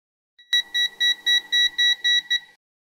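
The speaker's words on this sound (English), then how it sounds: "The built-in two-stage non-contact voltage tester helps to distinguish between" A Pancontrol PAN Profimeter digital multimeter's built-in non-contact voltage tester beeps sharply about nine times in a quick, even series, close and clear against silence.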